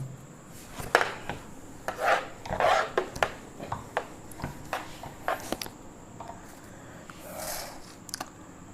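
Writing is rubbed off a board during a maths lesson: a series of irregular, scratchy rubbing strokes, close and fairly loud, with short pauses between bursts and no talking.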